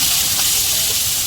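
Pointed gourd (potol) frying in a pan gives a dense, steady hissing sizzle, close and loud, continuous for the whole short stretch without any voices.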